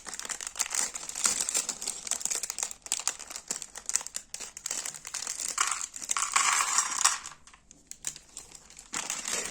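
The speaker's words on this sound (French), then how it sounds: "Dans un premier temps, nous allons ouvrir les sachets." Plastic bags from a LEGO Star Wars battle pack set being torn open, with continuous close crinkling and rustling of the plastic throughout and a brief pause near the end.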